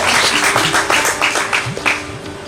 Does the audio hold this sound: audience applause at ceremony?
yes